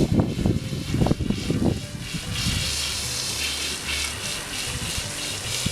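A garden hose sprays water over a horse's back and belly, making a steady close hiss and gush. Low voices can be heard in the first two seconds.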